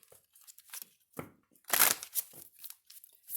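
Tarot cards are shuffled by hand in quiet, brief papery riffles and snaps, with one louder burst in the middle. The sound is soft and close, with no talking.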